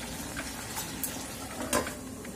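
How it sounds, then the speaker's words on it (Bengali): A pan of mixed vegetables with eggplant cooking on the stove: a low sizzle under soft stirring, with a sharp metallic clink near the end as a lid is set on the pan. "এবার এটা ঢেকে কিছুক্ষণ রাখবো"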